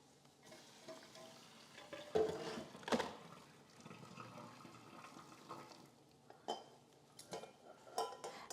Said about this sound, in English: We're going to remove them from our stovetop, and we're gonna drain them.